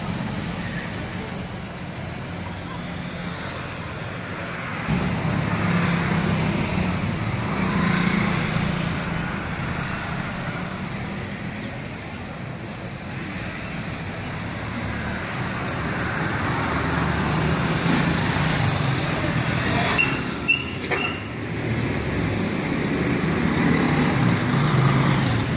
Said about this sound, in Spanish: Y el helicóptero se pierde en la distancia.